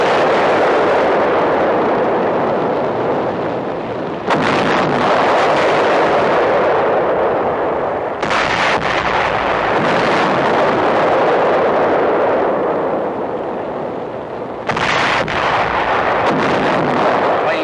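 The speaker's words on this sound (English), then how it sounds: "many major explosions follow detonation of the Japanese 500-pound armor-piercing projectiles" Heavy, continuous rumbling blasts and booming detonations aboard the burning World War II aircraft carrier USS Franklin roll on without pause, with sharp bursts breaking through a dense, roaring din.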